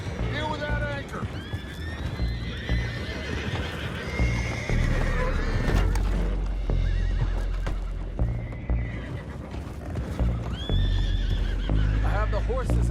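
Horses in Red Dead Redemption 2 whinny and neigh repeatedly over steady clip-clopping hooves and a dense, busy background of commotion and voices.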